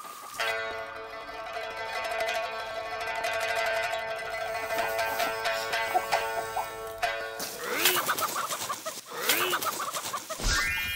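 Farm chickens cluck and squawk in a rural yard as they are chased and caught. A sustained tonal call runs through the first part, followed by sharper, agitated clucks near the mic.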